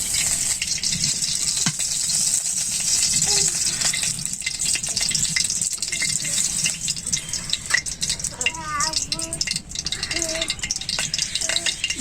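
Mustard oil in a wok over a village cooking fire, frying with a constant hissing sizzle and occasional spatula rattles, close and steady, with faint voices in the background.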